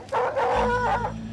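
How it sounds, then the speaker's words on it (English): Cadaver dogs trained to find human remains give a single drawn-out bark that rises into a howl, fairly close and loud, with no talking over it. "They brought in a team of cadaver dogs, dogs trained to find human remains."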